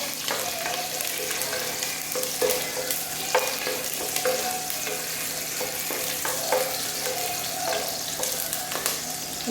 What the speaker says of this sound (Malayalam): കറിവേപ്പില, വെളുത്തുള്ളി, പച്ചമുളക് അരിഞ്ഞത് ഇട്ട് കൊടുത്തിട്ടുണ്ട്. ജസ്റ്റ് ഒന്ന് ഇളക്കി കൊടുക്കണേ.